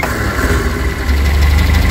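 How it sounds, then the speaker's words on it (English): Reliant SuperVan engine, warm, starting on the key with no throttle or choke, then settling into a steady, loud low-pitched idle running throughout. "Just thought I'd show you how this starts up."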